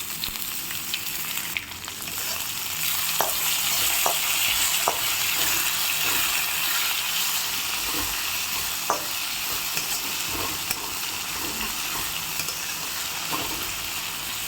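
Crushed curry leaves and coriander fry in a pan of hot oil, giving a loud, continuous sizzle with occasional light spoon taps and scrapes, close up and without voices.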